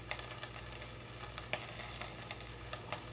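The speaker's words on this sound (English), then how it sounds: "just sauteing a little bit of onions along with just a little bit of sweet peppers" Onions and julienned and cubed sweet peppers sautéing in a pan: a faint, steady sizzle with light crackles and a few sharper pops, no voices.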